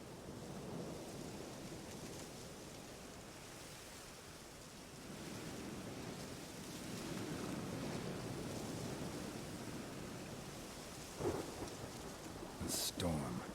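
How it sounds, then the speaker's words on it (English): Thunderstorm with steady rain in The Witcher video game, a broad continuous rain hiss with rolling thunder swelling through the middle and sharp crackling strikes near the end. "A storm, damn it."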